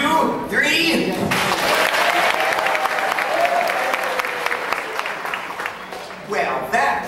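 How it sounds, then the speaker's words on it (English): Theme park show audience clapping on cue during an applause rehearsal, a loud sustained burst of applause with crowd cheering, framed by a host speaking before and after. "everybody be sure to clap good loud whenever you see the old applause sign"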